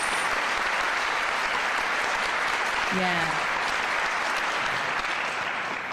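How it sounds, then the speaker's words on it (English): Crowd at a university community gathering marking the first anniversary of a deadly shooting applauds steadily and loudly throughout, with a single voice calling out briefly midway. "Can we clap it up"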